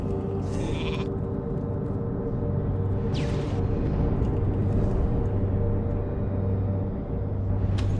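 A mage's polymorph spell in World of Warcraft sends out repeated sheep bleats over a steady droning game background, clear and fairly loud with no talking.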